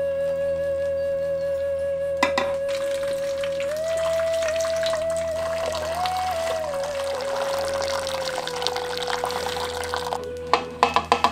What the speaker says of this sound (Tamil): அரிசி குழஞ்சிராம கொஞ்சம் பதமா வடிச்சு எடுத்துடலாம்.